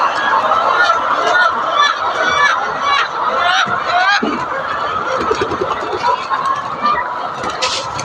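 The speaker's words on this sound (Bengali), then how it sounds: "দেখেন সব মুরগি ওইদিকে ফাঁকা, সব খাবার দেখে দৌড় দিচ্ছে।" Thousands of layer hens on a poultry farm rush toward freshly given feed, producing a dense, loud chorus of clucking and squawking calls, with scattered human voices mixed into the steady flock noise.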